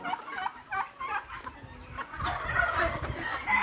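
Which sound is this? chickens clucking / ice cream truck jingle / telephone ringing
chickens clucking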